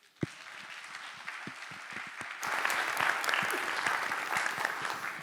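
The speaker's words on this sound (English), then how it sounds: "I think that applause was also for you" An audience at the closing session of a solar energy forum and expo breaks into applause after a single loud thump, the clapping growing denser and louder midway and continuing steadily with faint voices beneath.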